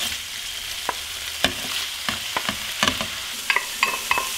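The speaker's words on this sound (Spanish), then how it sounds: "Vamos a freír las carnes primero." Meat filling for Argentine empanadas fries in a pan, a constant close sizzle broken by scattered sharp pops and spatters, with no voices.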